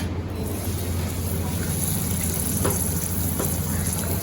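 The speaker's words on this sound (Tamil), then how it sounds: "இந்த வெங்காயம் நல்லா வதங்கட்டும்." Steady, dense sizzling of a finely chopped onion frying in hot oil for vegetable kuruma, close and continuous with a faint low hum underneath.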